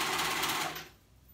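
A sewing machine stitches a pajama sleeve in a fast, steady close-up whirr that winds down and stops partway through, with no talk.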